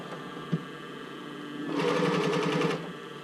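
A sewing machine stitches across the top of a bra, a close, steady rapid whirring burst lasting about a second, preceded by a small click and a quiet hum.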